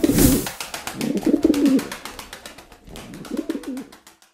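Pigeons coo inside a pigeon coop, several deep rolling calls in close succession, loud and near, with a pause before a final cooing phrase.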